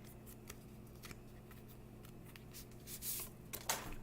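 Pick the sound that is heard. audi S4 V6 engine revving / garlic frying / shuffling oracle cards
shuffling oracle cards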